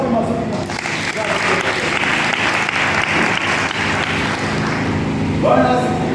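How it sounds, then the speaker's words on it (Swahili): A church congregation claps steadily and loudly, dense applause sustained throughout, with voices and cheering mixed in and a voice rising near the end. "Wacha Yesu makofi mazuri."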